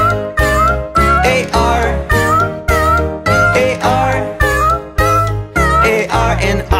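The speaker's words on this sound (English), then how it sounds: "There was a farmer who had a cat, and Oscar was his name, oh." A cat meows over and over in a steady, rhythmic run of loud, close, drawn-out calls, each rising and falling in pitch, set to a children's farm animal song.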